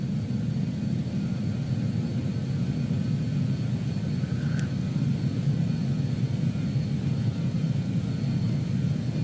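Steady roar of a BAE-146's four jet engines spooled up to flex takeoff power during the takeoff roll in Microsoft Flight Simulator 2020, a continuous loud low rumble with a faint brief beep partway through.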